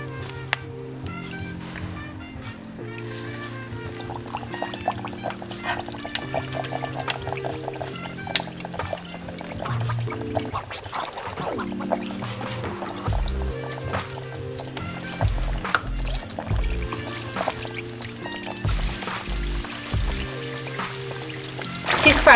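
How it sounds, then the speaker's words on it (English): Battered slices of sweet potato deep-fry in oil at around 300 Fahrenheit over medium heat, a continuous bubbling sizzle with occasional louder spurts, close and moderately loud, under background music. "We're gonna use medium heat to deep fry the sweet potato."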